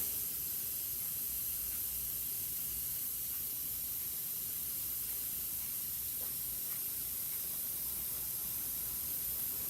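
Steady airbrush spray of paint during custom graphics work on a Chester Cheetah RC crawler body, a continuous broad airy hiss held at an even level throughout with no talking.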